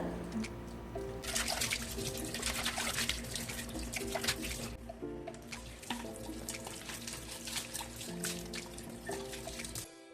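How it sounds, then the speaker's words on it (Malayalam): Dishes are washed under a running tap: a steady gush of water with clinks and clatter of plates and pots, close by and quiet, with no talking. "അപ്പോൾ അതൊക്കെ ഒന്ന് കഴുകി വെക്കുന്നുണ്ട്."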